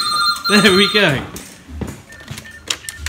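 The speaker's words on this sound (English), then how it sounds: "Let's call the other Ultratech Minicom phone." An old Ultratech Minicom telephone bell rings in a museum, one loud close burst of rapid metallic ringing that then gives way to quieter sounds while someone talks.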